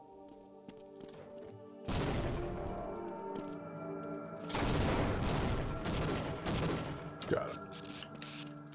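Half-Life mod Xeno Project 2 battle against a Gargantua, with Egon beam weapon and explosives: sustained roaring weapon fire and explosive bursts that start and stop, a sharp blast near the end, and someone talking briefly.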